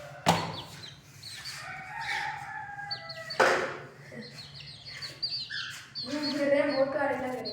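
Aseel chicks in a cage peep and chirp at close range, with a couple of sharp, loud bursts and rustling among the steady calls.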